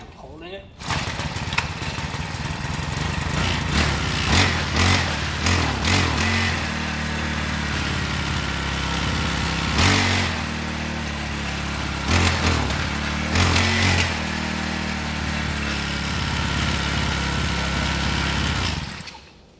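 A pocket bike's small engine catches and runs steadily, a loud, buzzy, high-revving drone with several sharp revs and throttle blips over about twenty seconds.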